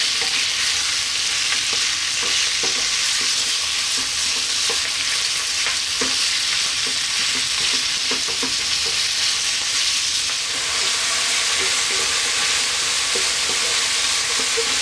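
Ground beef frying over high heat in a pan, a steady loud sizzle with intermittent scraping and stirring clicks throughout, no voices.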